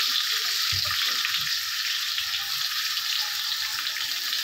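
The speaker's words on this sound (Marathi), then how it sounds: "एक एक करून आपण कारले याच्यामध्ये मस्त शॅलो फ्राय करून घ्यायचे आहे।" Masala-stuffed bitter gourds shallow fry in hot oil in a kadai, a steady, close, bright sizzle with a few soft clinks at the start.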